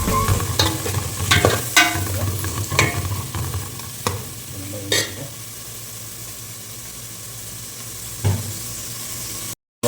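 Butter with whole spices such as cinnamon, cloves and cardamom sizzles in a pan for vegetable biryani, a steady close frying hiss broken by several sharp stirring scrapes and clicks, with no one talking.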